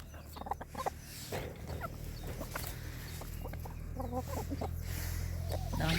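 Chickens, many of them bearded hens in a farm coop, cluck in short repeated calls at close to mid range, overlapping one another above a steady low background hum.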